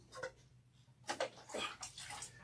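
Water running through shampooed hair during a rinse, a soft splashing wash broken into uneven bursts, close and moderately loud, with no talking.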